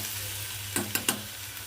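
Udad palya cooking in oil in a pan, a steady soft sizzle with a few sharp clinks of a spoon against the pan partway through.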